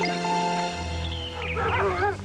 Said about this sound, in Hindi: आखिर इतने सारे कुत्ते कहाँ से आ गए?